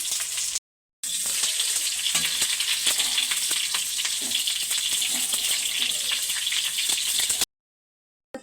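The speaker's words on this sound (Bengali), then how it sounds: "খিচুড়ির জন্য ফুলকপি সবজিগুলো ভেজে নেব" Cauliflower and potato pieces frying in oil for khichdi, a busy close sizzle with scattered crackles, broken by two short silent gaps, with a faint voice underneath.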